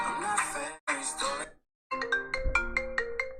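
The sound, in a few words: phone ringtone playing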